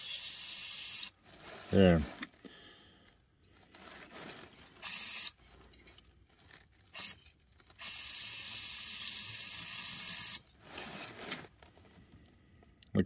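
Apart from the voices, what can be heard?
spraying Electromotive electric parts cleaner from aerosol can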